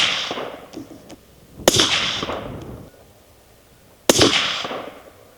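Two loud 6.5 Creedmoor rifle shots firing 130-grain Sierra Gamechanger bullets, each a sharp crack followed by a long rolling echo, spaced a few seconds apart outdoors.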